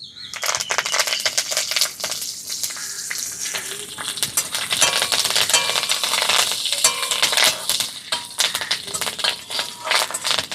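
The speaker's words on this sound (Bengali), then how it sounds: "তেলে দিয়ে দিচ্ছি হাফ চামচ জিরে, হাফ চামচ দিয়ে দিচ্ছি কালো সর্ষে, আর দিয়ে দিচ্ছি কয়েকটা কারি পাতা।" Cumin, black mustard seeds and curry leaves spit and crackle in hot oil, a loud, dense sizzle with sharp popping bursts running steadily throughout, no voices.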